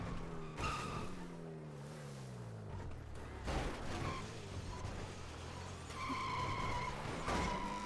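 A car drifts in a video game, its tires squealing and skidding in long loud sweeps over a steady engine drone, with the squeals rising and falling several times.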